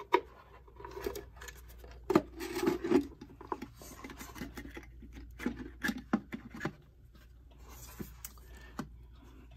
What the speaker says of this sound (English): Now I just have to slip the mechanism back into the case.